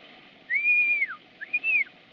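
A woman whistles for a cab with two loud, clear rising-and-falling whistles, the second shorter, over faint background noise.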